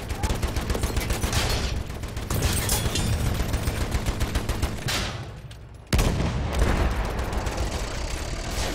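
Sustained machine gun fire in the World War I shooter Battlefield 1, fast rhythmic bursts rattling close and loud, briefly dipping before another sharp burst starts, amid battlefield noise with voices shouting.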